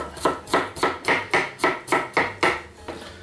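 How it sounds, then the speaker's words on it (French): Crushed garlic being chopped into small pieces with a knife on a cutting board, eight or nine evenly spaced, crisp knife thuds in a steady rhythm, close and clear with no talking. "On va prendre l'ail, on l'écrase. On va le couper en tout petits morceaux."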